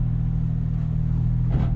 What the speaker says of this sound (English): Just idling up this hill